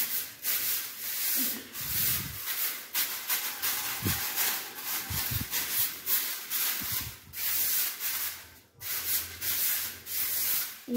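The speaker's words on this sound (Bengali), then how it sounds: "সিঁড়ি দিয়ে যখন নামছি তো সিঁড়িটাও একবারে ঝাড়ু দিতে দিলাম" Broom sweeping down a flight of stairs at home, a steady series of scratchy bristle strokes with occasional low thumps, close and fairly loud, no talk.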